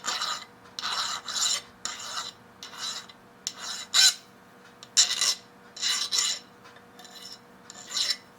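Hand filing to deburr the end of a short metal part for a Stirling engine helicopter model: repeated rasping strokes, about a dozen in irregular rhythm, close and clear with short pauses between.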